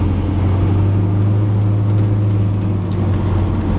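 A 1965 Ford Thunderbird with a big-block V8 and a 2.5-inch exhaust with an X pipe cruises with a steady deep low grumble, even and moderately loud, with no speech.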